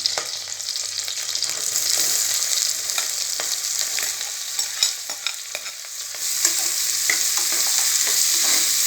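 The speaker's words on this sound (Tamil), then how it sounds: "நல்லா ஆனியன் வந்து நல்லா ப்ரௌன் கலர் வர வரைக்கும் நல்லா ஃப்ரை பண்ணி எடுத்துக்குவோம்" Sliced onions with green chillies and mint sizzling steadily in hot oil in a pan for egg biryani, with a continuous loud hiss and frequent scraping stirs of a spatula, no voices.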